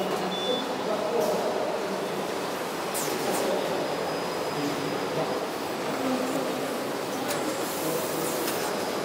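Fully automatic rigid box making machines with corner, feeder and spotter units run on a factory floor, giving a steady, loud, dense mechanical clatter and hum with no pauses.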